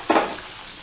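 Chopped onion and four green chillies hit hot oil in a pan, giving a sudden sizzling burst that quickly settles into a quieter, steady fry.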